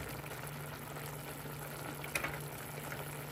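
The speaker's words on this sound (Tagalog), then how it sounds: "Kumukulo na po." Water boiling in a pot before fish is added for steaming, a steady low bubbling and hiss throughout with one brief sharper clink partway through, fairly close and quiet.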